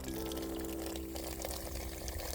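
Water poured onto an ore sample inside an underground gold mine, a steady continuous splashing and trickling wash over low background hum, no talking.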